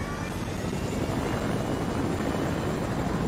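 A steady helicopter drone with thudding rotor wash in the video game Fortnite fills the whole stretch, loud and unbroken, no voices on top.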